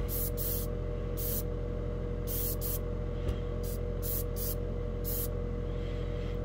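Airbrush spraying Tamiya lacquer paint thinned with Tamiya lacquer thinner, a first coat going on; steady hiss comes in repeated short bursts over a constant low hum, close to the microphone.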